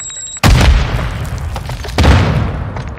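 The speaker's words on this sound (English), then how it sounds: "Semtex out!" A Semtex grenade goes off in a first-person shooter video game with a loud, close boom, followed about a second and a half later by a second heavy blast. Each burst trails away into a rumbling, crackling tail.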